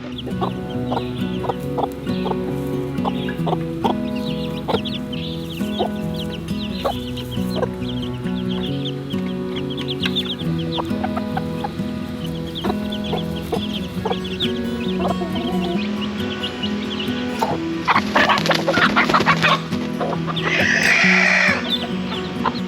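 Chickens cluck steadily up close on a farm with baby chicks, with a louder burst of agitated squawking near the end.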